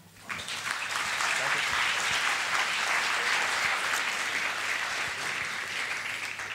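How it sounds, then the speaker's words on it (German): A crowd applauds after a talk at a web meetup in Frankfurt. The clapping swells in quickly after a brief quiet start, holds as a loud, even roar, and eases slightly toward the end. "Ich würde nochmal um Applaus bitten."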